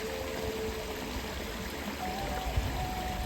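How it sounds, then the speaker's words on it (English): A small stream flows steadily, its continuous watery rush and trickle filling the whole stretch, close and moderately loud, with a brief splash near the end. "Nice to see the water flowing though."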